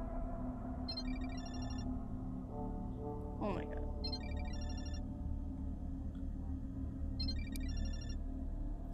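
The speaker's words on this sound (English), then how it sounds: "Asuka's ringtone? I think it's coming from the balcony." A phone ringtone plays in bursts of electronic beeping in the horror video game Parasocial, over a steady low droning game ambience, with a brief sharper effect partway through.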